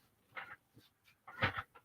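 A dog whimpers softly and pants in short, quiet bursts indoors, close by.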